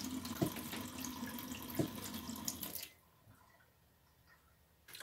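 Caravan water tap running loudly into a sink with splashing, then shut off abruptly, leaving near silence before a brief noise at the end.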